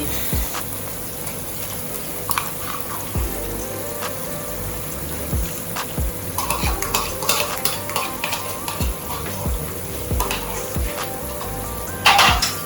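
Corned beef, also called bully beef, fries in a pan with a steady loud sizzle, while a spoon stirs and scrapes at intervals, clattering more sharply near the end.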